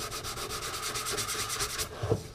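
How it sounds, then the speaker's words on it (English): Steady back-and-forth scraping of sandpaper rubbed by hand with light pressure in quick even strokes on a car dash panel, close by, stopping near the end with a light knock. "Don't apply too much pressure when sanding this one."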